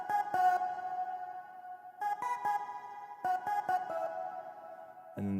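A sustained synth keyboard tone in a low register, struck in short repeated chord stabs over a steady held note, with a ringing tail.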